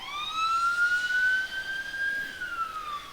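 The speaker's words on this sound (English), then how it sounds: "Those sirens don't sound like they're coming from..." Emergency vehicle siren wailing in a rising then falling sweep, echoing off surrounding buildings in a city street, moderately loud and steady with no talking.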